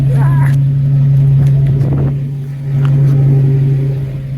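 A 1987 Blazer engine that stalls at stops idles with a steady low hum, its drone sagging briefly midway as if cutting out, then recovering, heard close with a voice speaking over it.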